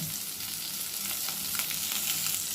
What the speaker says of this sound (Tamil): அப்புறம் சிம்மில் வச்சுக்கிட்டே பொறுமையாக வதக்கணும்